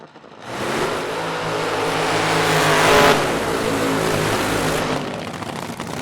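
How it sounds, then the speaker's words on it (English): An AA fuel dragster launches at full throttle at a nighttime drag race, a loud broadband engine roar that surges up, peaks near the middle, holds, then drops off near the end. "launching like a mid-60s slingshot drag"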